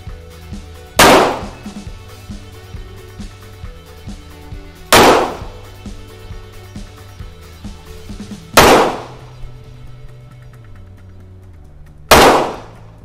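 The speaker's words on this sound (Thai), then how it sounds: "ทดสอบตัวปืนโค้ด38ซุปเปอร์นะครับกระบอกนี้" Four sharp, loud pistol shots from a Colt .38 Super, spaced roughly every three to four seconds, each cracking out and ringing briefly before fading into the quiet range.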